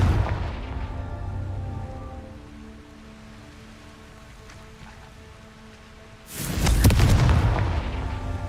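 A Confringo fire spell from Hogwarts Legacy bursts in a sudden loud explosive boom with crackling debris, following a quieter stretch of game ambience and humming tones.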